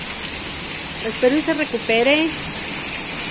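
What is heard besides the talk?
heavy rain and running water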